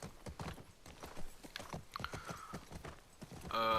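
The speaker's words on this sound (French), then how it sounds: "J'aimerais bien que le cheval descende." A horse's hooves clip-clop in an uneven walking rhythm, close and fairly clear, with a short tonal sound at the end.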